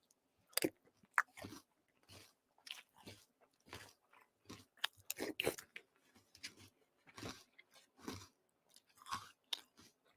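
Crunchy breakfast cereal chewed close up, a series of loud irregular crunches and munching bursts separated by short quiet gaps, with no talking.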